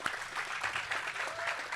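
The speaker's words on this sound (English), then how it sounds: "let's give them a round of applause to start it up" An audience at a product unveiling event for the Leo Series applauds steadily, a dense patter of many hands clapping at moderate level from start to finish with no one talking.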